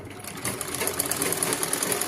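A sewing machine stitches cloth in a short, close burst, its rapid needle chatter rising slightly after a quiet start and holding steady for about two seconds with no voices.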